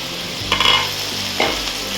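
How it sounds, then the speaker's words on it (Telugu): Bitter gourd fries in a generous amount of oil while being stirred, giving a steady close sizzle with two brief scraping stirs, and no voices. "మంచిగా ఫ్రై అవుతుంది."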